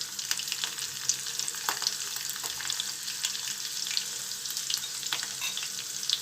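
Sesame seeds sizzle and crackle in hot tempering oil with green chili for Gujarati khandvi, the gas already off, making a bright, steady hiss with scattered sharp pops close by.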